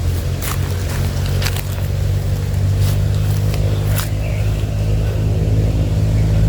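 Motorcycle engine accelerating with a steady, loud low drone close by, broken by a few brief bursts of higher-pitched noise.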